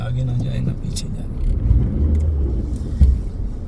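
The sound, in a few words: car engine revving, stuck on snowy driveway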